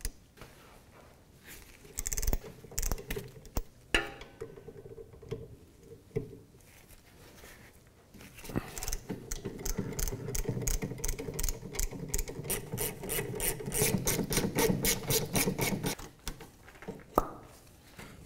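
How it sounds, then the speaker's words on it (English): A 14 mm socket on a breaker bar works caliper bolts on a 2007-2013 Mitsubishi Outlander: a few scattered clanks, then a long run of rapid ratcheting clicks close by, ending in a final knock. "We're going to do that with a 14 millimeter socket. I have a breaker bar on this"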